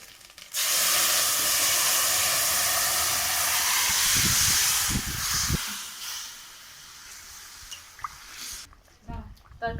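Vegetable curry for a thin green-banana summer stew is tipped into hot spiced oil and bursts into a loud, hissing sizzle that fades gradually to softer bubbling and spitting, followed by a few clanks of utensils.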